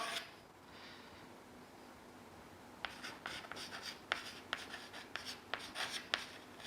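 Drawing a small picture on a board during a geography class: after a quiet start, a run of short, distinct scratching strokes comes in irregular bursts, close and fairly clear, with no talk.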